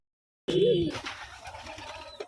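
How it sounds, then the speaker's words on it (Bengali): Rajshahi Gerebaj pigeons feeding together at a farm give a close, single soft coo after a brief silence, followed by quieter shuffling and faint background noise. "দেখুন কবুতরগুলো কত সুন্দরভাবে খাচ্ছে একসাথে"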